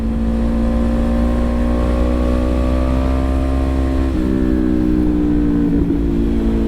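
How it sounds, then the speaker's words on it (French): A 2017 Honda CBR500R motorcycle with a full exhaust system accelerating on a winding road: a loud, continuous engine drone rising steadily in pitch, a brief dip at a gear change, then climbing again under heavy wind rush. "Je sais même pas si vous m'entendez tellement elle gueule cette bécane."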